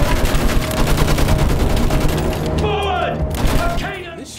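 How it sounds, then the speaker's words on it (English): Machine gun fire in the World War I shooter Battlefield 1, rapid rhythmic bursts hammering loudly and close, then fading as chirping, whistling battle sounds and shouting voices take over toward the end. "Use that machine gun! Mow them down!"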